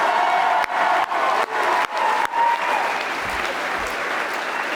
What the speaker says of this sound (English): Let's have a round of applause for Paul frickin' Malloy.